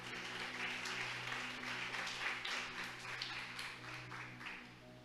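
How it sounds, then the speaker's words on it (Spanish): Congregation applause in a church service, a faint distant patter of many hands clapping over a steady low hum, continuous and fairly even throughout. "Alguien le aplauda a Dios por esto"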